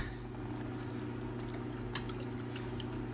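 Silver refining electrolyte solution being stirred in a cell, a steady low hum underneath soft liquid swishing and a few faint clinks, close by and with no talking.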